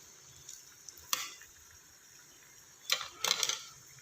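Aloo tikki kebabs frying in hot oil: a steady low sizzle broken by a few sharp crackles and brief bursts, with a clatter of utensil contact near the end, close and alone without talk.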